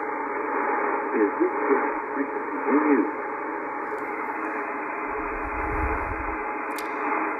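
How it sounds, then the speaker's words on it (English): Band-limited radio static and hiss come through a QRM eliminator's noise-receiving antenna, steady throughout with faint voice-like warbles early on and a low rumble near the end. "bring the noise receiving antenna up until you can listen to it and you'll hear the noise"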